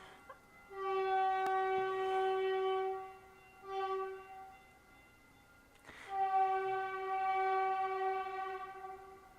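A train horn blasts three times, a long loud blare, a brief short toot, then another long sustained blast, over a low rumble of rail traffic.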